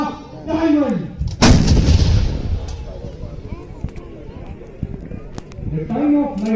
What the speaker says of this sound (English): The ultra-light howitzer in front will now fire on area diamond.